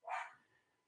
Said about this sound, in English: My dog is going nuts upstairs.